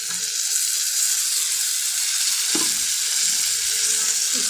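Two chopped tomatoes frying in a pan for broccoli egg masala, a loud continuous sizzle with a couple of brief stirring scrapes and no talking.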